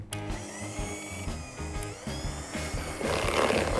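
An electric mixer whirs with a pulsing, uneven motor drone while it beats cheesecake filling, steady and close throughout the short stretch.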